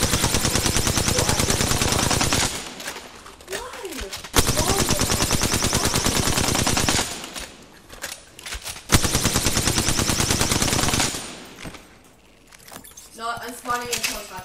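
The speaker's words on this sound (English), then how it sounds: "I'm gonna just waste all the shots." Rapid automatic gunfire from a video game rattles out in long, loud bursts separated by short pauses, with quieter game sounds in the gaps between volleys.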